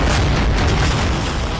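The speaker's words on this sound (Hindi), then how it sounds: "पुतिन की मिसाइलें और पुतिन के गोले यूक्रेन को लहूलुहान कर रहे हैं।" Missile and shell explosions in the Russia–Ukraine war, a dense, continuous low rumbling roar with no distinct separate blasts, loud and sustained.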